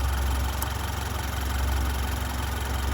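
A 2023 Chevy Colorado with the L3B engine idles steadily at close range during sensor testing, a constant low rumble with an even, unbroken hum and no voices.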